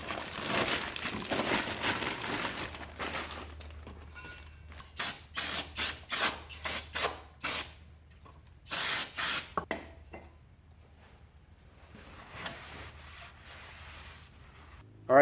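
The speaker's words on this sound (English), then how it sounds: "I'm going to hit them with some brake cleaner on the inside and then wipe them off" Brake cleaner sprays in a series of short sharp hissing bursts inside the brake drums of an 83 Buick Regal G-body, mixed with rubbing and wiping sounds, close and moderately loud.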